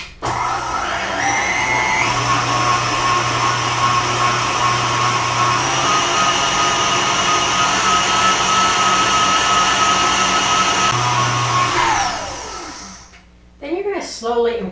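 An electric mixer whirs loudly and steadily while beating homemade body butter, holding a high mechanical whine for about twelve seconds before winding down, with a voice briefly heard at the end.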